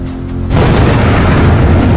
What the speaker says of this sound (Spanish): una explosión aún mayor hace estallar en pedazos el edificio que alberga el reactor número 3